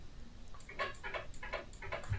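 A steady run of soft, light clicks with faint tinkling tones, repeating roughly every third of a second, fairly close with low background noise.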